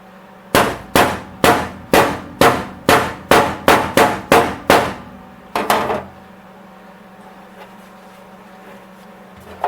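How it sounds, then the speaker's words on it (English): Hammer blows on the steel floor pan of a Datsun 280ZX under repair: about a dozen loud, ringing metallic clangs in a steady rhythm, a short pause, two quick hits, then quiet workshop hum. "Let's see if we can hammer it down."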